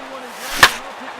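A bat cracks against a pitched baseball in MLB 15 The Show, one sharp hit midway through under a steady crowd murmur and a commentator's voice.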